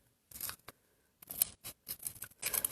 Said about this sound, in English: First, I got my scissors. So, Linocut, all you do is just cut it out.